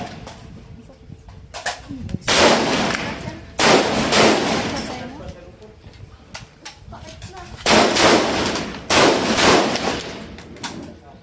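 M16A rifles firing at an outdoor marksmanship range, several sharp loud shots in irregular sequence with echoing tails, gaps between them and faint background activity.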